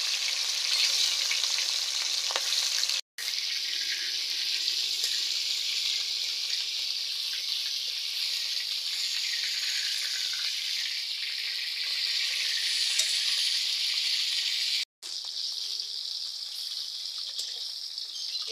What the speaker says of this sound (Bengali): এই মাছ বন্ধুরা খুব ফটফট করে,